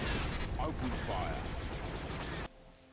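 Weapons fire in a Star Wars: Empire at War space battle, a dense continuous barrage of blasts and rumbling explosions under voices and sweeping tones, cutting off abruptly near the end to a quieter hum.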